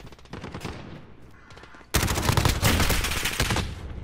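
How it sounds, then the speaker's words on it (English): Rapid automatic gunfire from a shooter video game fires at an enemy overhead, starting as a steady burst of clattering shots and swelling into a louder, denser barrage halfway through, with no talk over it. "There was an enemy above and I started shooting at him."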